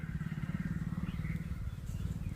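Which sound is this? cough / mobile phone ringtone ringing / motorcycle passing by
motorcycle passing by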